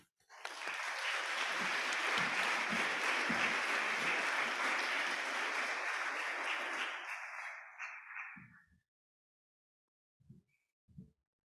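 Audience at an anniversary annual dinner applauding to welcome speakers to the stage, a dense burst of clapping for about seven seconds that fades out, followed by a few faint isolated sounds.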